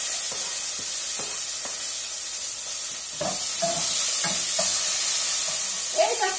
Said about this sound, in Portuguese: pra dourar a cebola